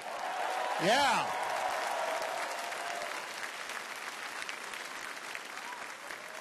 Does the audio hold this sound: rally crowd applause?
yes